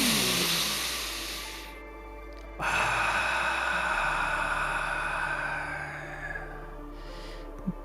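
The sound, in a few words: deep breathing in through nose, exhaling through mouth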